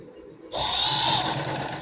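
A sewing machine stitches fabric for an A-line kurti neckline, starting abruptly after a brief quiet moment and then running as a close, steady mechanical whir with rapid needle chatter to the end.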